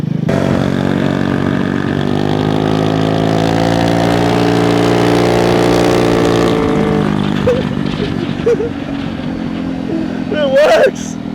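A scooter engine fitted with nitrous revs hard and close, a loud buzzing drone that holds and shifts pitch, then drops toward idle while a voice talks briefly over it.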